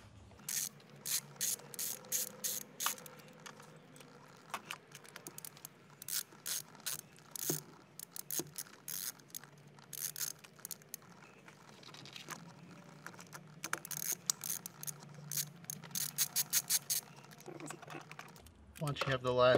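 A hand ratchet works bolts out of a Honda S2000 shifter with bursts of quick, close clicking, repeated in short runs across a fairly quiet background.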